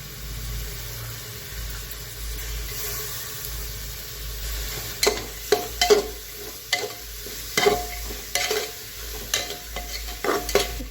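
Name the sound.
cauliflower and peas stirred and frying in pressure cooker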